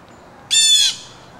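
A blue jay gives a single loud, harsh squawk lasting about half a second while mobbing a raccoon in a tree, close and clear against a quiet outdoor background.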